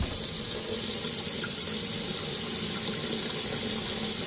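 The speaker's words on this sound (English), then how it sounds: "if you rinse too much at first, you'll actually rinse the chemical off, then you won't be able to scrub too easily" Water rinses paint stripper off a model car body, a steady, close hissing spray running without pause throughout.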